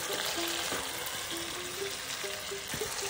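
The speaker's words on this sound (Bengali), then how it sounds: "এবার আমি সিদ্ধ করা কাঁঠালগুলো নিয়ে দেব।" Boiled jackfruit goes into a pan of lentils frying in oil, a steady broad sizzle with faint scraping stir sounds and a few light clinks, continuous and fairly close, no talking.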